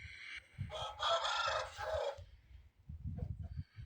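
A large 4.5 kg rooster crows loudly nearby, a long drawn call, followed by quieter clucking and rustling from the birds.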